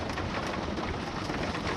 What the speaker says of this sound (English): we've just had really bad hail